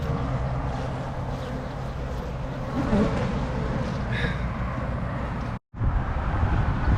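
Dense, steady buzzing of honeybees at an open hive during requeening, close and continuous, with a brief dropout near the end; no talk is heard.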